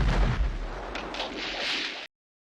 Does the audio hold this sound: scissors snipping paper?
no